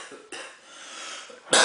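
A man coughs a few times, short rough bursts spaced through a brief quiet moment, with a sharper, louder cough at the end.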